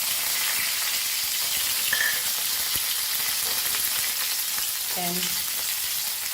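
Goan tuna fish fry with recheado masala and curry leaves sizzles steadily in a pan, a continuous dense crackle throughout with a faint clink near the end and a brief word spoken.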